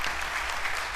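Audience at a government policy blueprint event clapping, a dense, steady wash of applause from many hands throughout.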